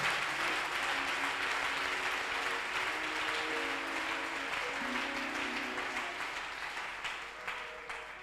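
A church congregation applauds the Lord during a night prayer service, with dense, steady clapping that tapers slightly toward the end over a faint low hum.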